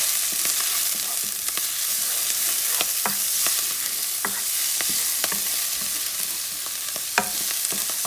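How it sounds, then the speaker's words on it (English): Minced garlic sizzles in a hot pan while a utensil stirs it, a steady bright hiss broken by short scraping clicks, close and alone. "You don't want the garlic burned, so you're going to move it around for like 15 seconds or so."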